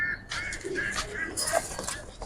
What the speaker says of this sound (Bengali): এটা মাদি কবুতরটা।